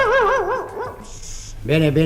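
Dog barking as a radio comedy sound effect, a few sharp yelping barks up close, followed by a voice speaking; the barks may be imitated by a performer.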